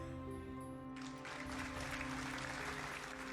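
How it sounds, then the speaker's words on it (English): Applause from a crowd in a fairy-tale video game swells in over a sustained musical tone, a steady patter of many hands clapping at moderate volume. "The crowd breaks into applause."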